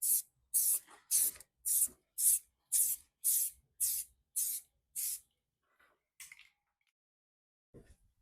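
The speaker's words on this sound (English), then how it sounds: "so I just primed it with etch primer" Etch primer sprays onto bare metal on a 1968 VW Beetle under restoration, in about nine short, evenly spaced hissing bursts from a can, followed by a couple of scattered later puffs.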